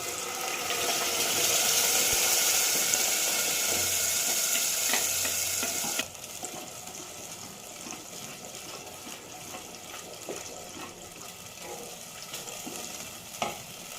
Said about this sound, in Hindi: अभी में जो हमने ग्राइंड किया था अभी वो मसाला अभी यूज़ करेंगे